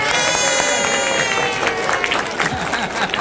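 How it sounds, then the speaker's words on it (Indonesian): Crowd applause and cheering at a mindset training seminar, a dense wash of clapping with a high tonal sound fading early and voices mixed in. "Tepuk tangan yang meriah."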